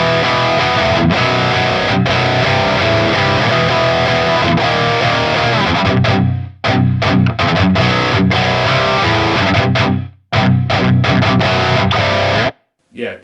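A heavily distorted electric guitar plays a loud lead with thick, saturated tone through a Line 6 Helix Archetype Lead preset modeled on a PRS Archon amp, broken by a few short abrupt pauses.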